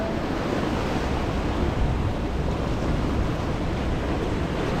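Ocean waves crashing continuously on the beach at Prachuap Khiri Khan, a dense loud roar of surf mixed with wind buffeting the microphone, no talking.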